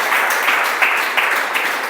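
A church congregation breaks into applause during a sermon, sustained mid-level clapping from many hands across the room, steady with occasional louder bursts.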